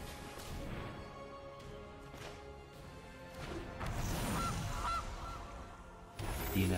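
Honking goose sound effect from the card game Magic Arena, loud and repeated over a busy layer of game music and impact effects, with a sharper burst near the end.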